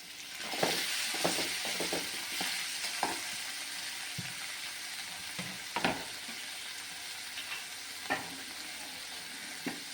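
Tomatoes with curry leaves sizzle in a hot pan, a steady frying hiss broken by scattered stirring clinks and scrapes, close and fairly quiet.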